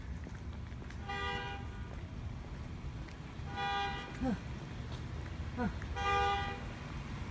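A car horn outside a county courthouse in Canadian, Texas, gives three short, distinct toots spaced a few seconds apart over steady outdoor background noise, with a brief voice between them.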